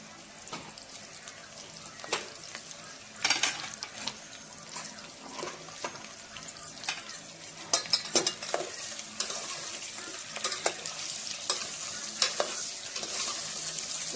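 Mango godamba mixed with turmeric and salt in a pan: repeated scraping stirs and soft clatters over a low sizzling wash, growing busier and denser toward the end, nearby and without talk.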